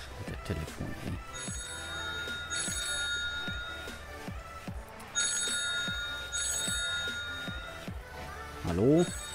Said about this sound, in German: Der Telefon, ey.